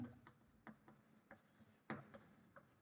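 Hand-writing a quadratic equation during a class 10 maths lesson, with irregular close scratchy pen or chalk strokes and sharp taps over about three seconds, fairly quiet.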